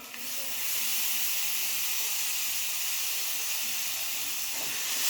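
Tomato paste and masala spices fry in oil with a steady, continuous loud sizzle and hiss throughout.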